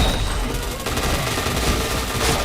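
Dense, rapid gunfire from the PointBlank shooter game, a loud, continuous burst of overlapping shots with no pause across the whole stretch.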